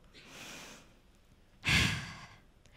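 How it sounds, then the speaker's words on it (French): An audience at a science talk contest takes a deep breath together, a soft airy inhale followed by a louder, fuller rush of breath. "Prenez une grande inspiration"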